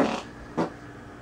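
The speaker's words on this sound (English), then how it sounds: "That was a loud fart." A loud fart, heard up close as two short, rumbling blasts with a brief pause between them. No other sounds compete with it.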